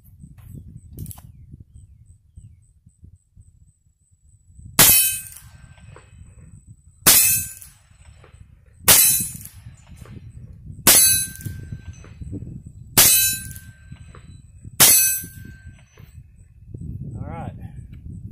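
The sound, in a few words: Heritage Rough Rider revolver rounds fired at ringing steel targets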